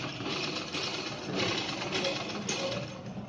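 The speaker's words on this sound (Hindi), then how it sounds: "बिल्कुल किनारे किनारे पे हम सिलाई लगाएंगे" A sewing machine runs steadily, stitching kurti fabric right along the edge of a ruffle-neck kurti, a close continuous mechanical whir with a faint rapid rhythm.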